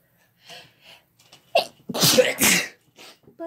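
Man and woman sneezing one after another, several quick sneezes of rising force ending in two loud, close bursts, followed by a brief quieter sound.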